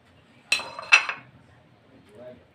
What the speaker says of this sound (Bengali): এইভাবে আস্তে করে ঢাকনাটা আমি তুলে নিলাম।